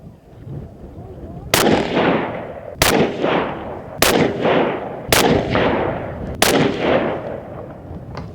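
Five sharp rifle shots from a Ruger American Predator chambered in 6.5 Creedmoor, fired outdoors at about one-second intervals, each loud crack trailing off in a long echoing decay.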